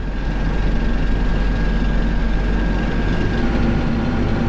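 Tractor engine running steadily at close range while a Trimble GPS system steers it along a road via an HT101V valve, a constant low rumble with a faint whine above, no talk.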